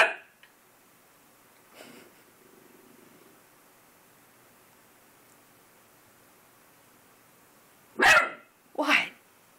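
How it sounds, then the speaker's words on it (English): A puppy barks at its own reflection in a mirror, two sharp close barks near the end after a quiet stretch with a faint murmur of talk earlier. "Who's that doggy in the mirror?"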